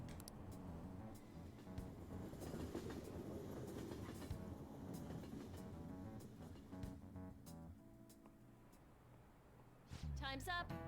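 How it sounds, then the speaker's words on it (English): Subway train ride in the video game Persona 5 Royal: a steady rumbling rail carriage with clattering wheels runs throughout, with a denser burst of noise near the end. "I'm on the subway."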